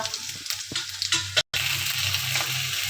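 Ginger and garlic paste hits browned onions in a pan for egg curry, making a loud steady sizzle with a few stirring knocks and a brief cut to silence midway.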